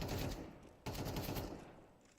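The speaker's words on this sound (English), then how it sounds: "Somehow, he wall-banged Sensu and hit Techno for a bit of damage." Rapid, dense gunfire from a Counter-Strike match at a professional esports tournament, with sustained overlapping bursts, a brief cut near the start, and then a continued loud volley that slowly tapers.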